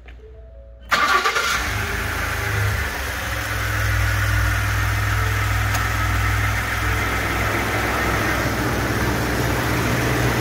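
A 2016 Ford F-150 XLT with a 2.7-liter EcoBoost V6 cranks and fires after a brief quiet moment, then settles into a steady, close, low idle rumble that holds for the rest of the stretch.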